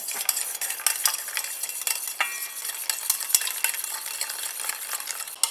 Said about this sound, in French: je continue à mélanger comme ça jusqu'à ce que mon émulsion refroidisse